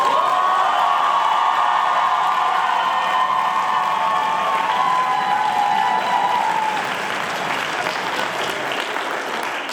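A debate-final audience applauds loudly and steadily for about ten seconds, dense clapping with a few cheers and whoops, tapering slightly near the end.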